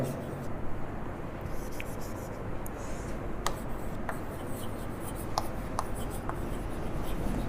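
Chalk or marker writing on a classroom board during a lesson on P-N junction diodes, heard as faint, intermittent scratchy strokes over a steady noisy room background.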